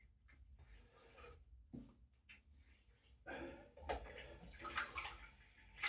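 Water splashes against a face during a rinse after a Shavette shave, with light scattered splashing that builds into louder, closer bursts of wet sloshing toward the end.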